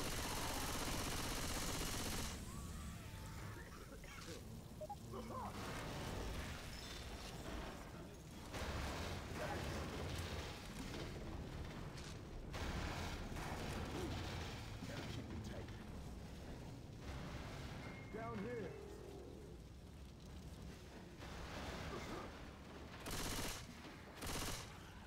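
Left 4 Dead 2 gunplay fills the scene with repeated bursts of rapid gunfire and sharp single shots that continue throughout, with a short quiet gap partway and occasional faint voices.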